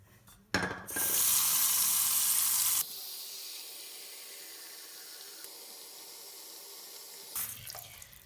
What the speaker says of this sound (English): First step, fill your entire sink with water.